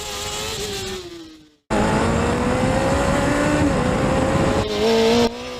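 A car laps a go-kart track, its engine droning loudly at steady high revs, briefly cutting out, then roaring back with rising and falling pitch and tire noise as it corners close by.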